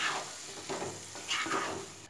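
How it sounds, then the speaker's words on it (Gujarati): Chopped tomatoes go into sautéed onions in a pan for a Gujarati sev tameta sabzi, with a soft sizzle under repeated scraping stirs that swell and fade in a loose rhythm. "ડુંગળી સોટે થઈ જાય પછી એમાં જે આપણે સમારેલા ટામેટા હતા એ ટામેટા એડ કરી દઈશું."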